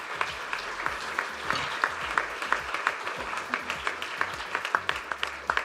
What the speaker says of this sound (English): give everybody a huge round of applause for these opening remarks